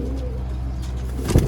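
A Sialkoti pigeon coos softly amid steady low background hum, a brief murmuring call without voices.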